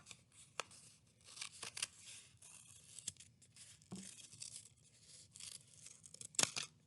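Scissors cut pink paper for a scarecrow craft, a series of soft, close crisp snips and papery rustles at a quiet level with no talk.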